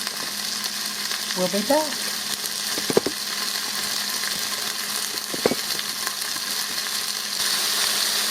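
Vegetables sautéing in a pan for a rigatoni dish with artichokes and sundried tomatoes give off a steady sizzle, with a few brief clinks and stirring knocks and a short voice.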